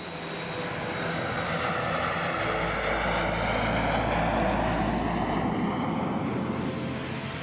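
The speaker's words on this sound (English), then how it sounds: "NASA maintained a fleet of T-38s for this purpose." A NASA T-38 jet trainer aircraft roars past, a loud sustained engine rush that swells and shifts in pitch as it passes, with no voices.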